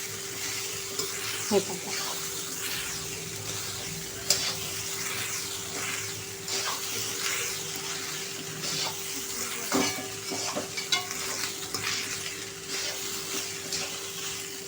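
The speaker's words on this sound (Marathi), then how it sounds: "आणि आता मस्त परतून घ्यायचं आहे." Leftover cooked rice with a spice tempering is stir-fried in a pan: a steady sizzle, with a spatula scraping and clinking at intervals and a brief voice over it.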